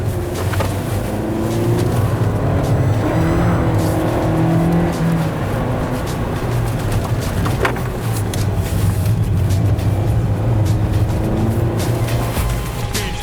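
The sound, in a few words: Toyota Yaris cornering at the limit, understeering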